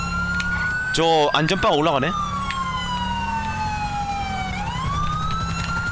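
A police car siren wails in GTA V, its long sweeping tone rising and falling steadily over engine rumble, while someone talks briefly near the start.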